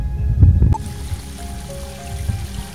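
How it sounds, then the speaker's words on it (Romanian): Spring water trickling out from below Lespezi peak in the Făgăraș mountains gurgles and splashes close by, with a heavier burst at first, then a lighter, continuous dribble. "Acest izvor curge de sub vârful Espezi"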